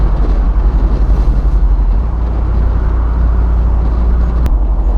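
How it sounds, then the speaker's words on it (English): A steady, loud low V8 exhaust rumble from a 2021 Jeep Wrangler Unlimited Rubicon 392 on downshift, with a throbbing, pulsing burble, continuous throughout with no voices. "downshift and listen to a little bit of burbling"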